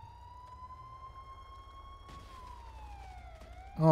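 Police car siren in the video game GTA 5, a steady wailing tone that dips and rises, heard clearly with a louder burst of noise at the very end.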